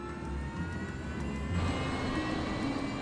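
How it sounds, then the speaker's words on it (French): A Fokker F-28 jet engine spools up during start, a steady broad roar and whine that swells slightly partway through, filling the scene with continuous loud engine noise and no voices. "Le commandant utilise la puissance du moteur numéro 2 qui tourne déjà pour allumer le 1."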